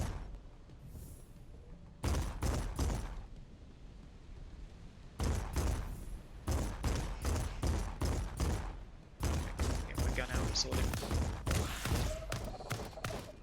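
Cannon fire in the game Lost Skies: bursts of loud, booming blasts in irregular clusters, several shots rapidly stacked together, separated by brief quieter stretches of low background rumble.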